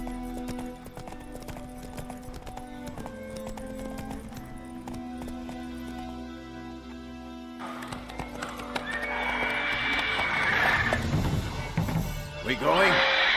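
Roach the horse gallops with steady hoofbeats and neighs in The Witcher 3, over game music, with a chaotic louder stretch of crashing and commotion near the end.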